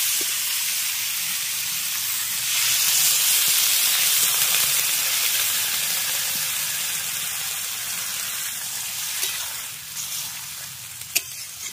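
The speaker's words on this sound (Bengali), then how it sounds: "এবার এর মধ্যে জল দিয়ে দেবো" Water poured into a pan of winter vegetables that have been stir-fried down, setting off a loud, continuous sizzle and steamy hiss that slowly eases as it settles.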